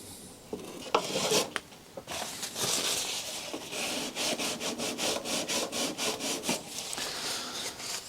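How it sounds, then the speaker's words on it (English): Sandpaper rubbed over a repaired part of a crashed Extreme Flight Laser EXP v2 RC airplane, heard as close, rhythmic scratchy back-and-forth strokes, quickening into a steady series of short rasps. "we can deal with that with sandpaper"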